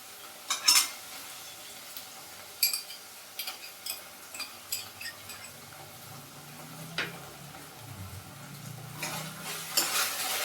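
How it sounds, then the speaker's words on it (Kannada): Gobi Manchurian being stir-fried with soy and chilli sauces, with a soft sizzle beneath sharp, irregular clinks and scrapes of a ladle against the pan. Close and clear, with no talking. "ಸೋಯಾ ಸಾಸು ಹಾಕಿದ್ರೆ ಒಂದು ಅರ್ಧ ನಿಮಿಷ ಫ್ರೈ ಮಾಡಬೇಕು."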